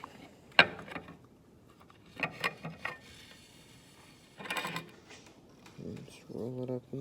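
Starter cord being wound onto the pull-start pulley of a 1960s Mercury 9.8 outboard, with sparse clicks, ratcheting and rattling handling noises close by, mixed with someone talking.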